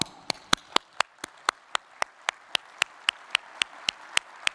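Applause at a conference keynote for committee members, heard as sharp, evenly spaced single claps in a steady rhythm, crisp and fairly close over a quiet room.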